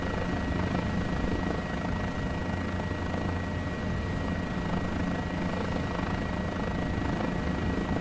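A Guimbal G2 helicopter in MSFS2020 drones steadily and loudly as its engine is throttled back toward idle, a continuous rotor and turbine whirr with no pauses.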